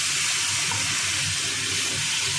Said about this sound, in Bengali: মশলার পাত্রে জল দিয়ে একটু গলিয়ে সেই জলটা দিয়ে দিলাম।